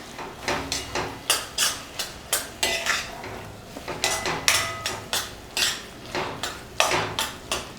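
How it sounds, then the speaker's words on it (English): A utensil stirs and scrapes paneer bhurji with herbs around a pan in a steady run of close, sharp clatters, roughly two or three per second, with faint frying beneath and no talking. "So give this a nice good mix"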